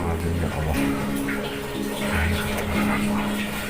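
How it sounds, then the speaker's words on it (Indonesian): A water tap behind someone suddenly runs, a steady splashing gush of fairly loud water with faint tonal hums underneath throughout. "Tiba-tiba keran di belakang persis nyala"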